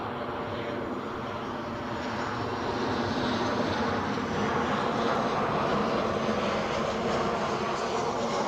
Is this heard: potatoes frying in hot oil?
no